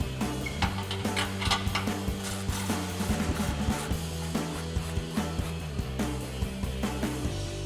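A 14mm swivel socket on an extension works loose two exhaust nuts under a 2022-2024 Toyota Tundra, giving repeated close metallic clicks and clanks in an uneven rhythm with some clatter of parts between them.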